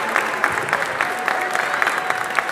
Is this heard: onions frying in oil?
no